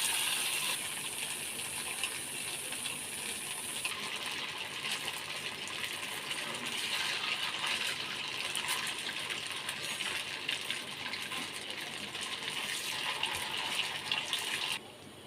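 Paneer soya koftas fry in refined oil in a nonstick pan, giving a steady, close sizzling hiss that runs unbroken for the whole stretch.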